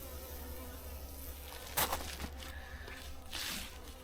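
Honey bees buzzing in a hive during a February colony inspection in an apiary, a soft, continuous low hum with brief handling knocks and rustles near the frames.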